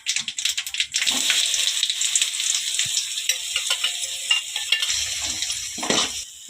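A ground paste of garlic, cumin and black pepper sizzles in hot oil for rasam, a close, continuous crackling hiss with small pops and a brief stirring scrape near the end.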